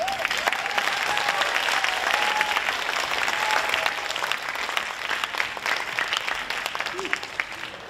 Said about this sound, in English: another big round of applause for all of the classes who performed today.